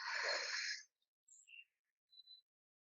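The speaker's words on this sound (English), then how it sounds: "Deep breath in through your nose. Clearing breath out through the mouth." Yoga breathing, one deep breath drawn audibly through the nose and released, close and soft, followed by a few faint brief noises and near silence.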